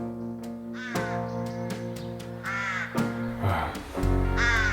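Crows caw in several harsh, rasping calls spaced through the passage, fairly loud against a steady low musical drone.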